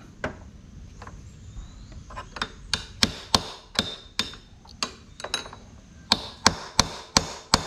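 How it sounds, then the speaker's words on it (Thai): Metal driver tapped with a hammer to set the steering head of a Honda Wave 125 with a loose neck, sharp ringing strikes in irregular single blows then a quicker run of taps, close and alone. "ค่อยขันให้มันแน่นครับใช้วิธีตอก"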